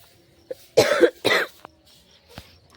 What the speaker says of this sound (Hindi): मेरा खांसी बहुत ज़्यादा हो रहा है